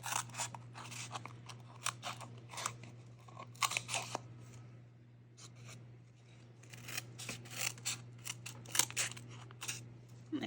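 Titanium scissors snipping paper scraps for junk journal embellishments, a string of crisp close cuts in irregular bursts over a steady low hum, with no talking.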